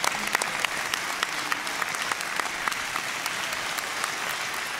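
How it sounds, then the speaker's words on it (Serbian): Audience applause at a Serbian folk music festival final, a dense, steady clapping from a large crowd with scattered sharper claps, sustained and fairly loud throughout. "bravo, aplauz."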